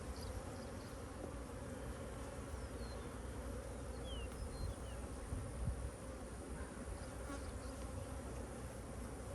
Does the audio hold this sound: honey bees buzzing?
yes